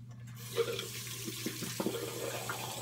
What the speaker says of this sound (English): want to add a little bit of water.